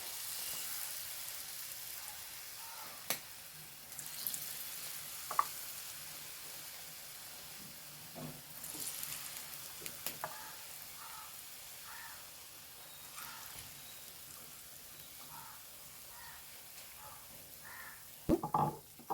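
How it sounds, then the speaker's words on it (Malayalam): Bitter gourd slices dropped one by one into hot coconut oil, a faint, thin sizzle with occasional sharp clicks and spatters, quiet and close with no voices. "വെളിച്ചെണ്ണ ചൂടായിരിക്കുന്നത് ഇത് കയ്പയ്ക്ക് മുക്കിയിട്ടിടാം കേട്ടോ ഇങ്ങനെ ഓരോന്നോരോന്ന് ഇട്ട് കൊടുക്കാം"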